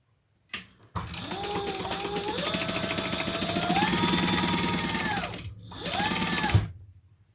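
Sewing machine stitching a crossbody bag, running in long continuous bursts with a steady mechanical whir and rapid needle rhythm, close and loud, pausing briefly before a shorter final run.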